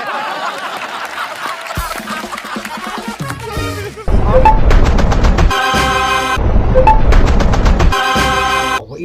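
Staged gunfire effects crackle in bursts, some in rapid machine-gun style strings, loud and layered over background music, with a brief break between sections.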